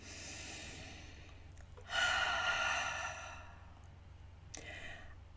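One person takes a deep, audible breath in during a relaxation tapping session, a breathy inhale lasting about a second, close and fairly quiet against a faint steady hum.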